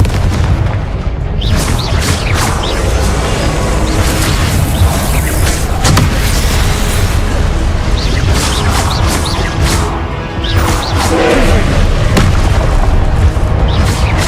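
Confringo spell explosions in the video game Hogwarts Legacy sound as loud, repeated booms and crashing blasts over dense game noise, with bursts recurring across the whole stretch.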